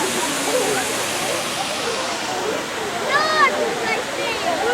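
Zoo waterfall rushing as a steady, loud wash of falling water, with a few faint bird chirps over it.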